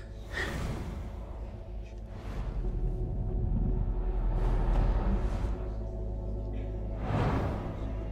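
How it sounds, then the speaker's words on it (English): Heavy breathing from a player character who has just been running in the stealth video game Thief, with gasping breaths and loud exhales standing out at intervals over a steady low ambient hum. "am I breathing heavy because I was running?"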